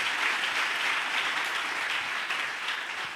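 A church congregation applauding during a Pentecost service, a dense, steady roar of many hands clapping that fades slightly toward the end.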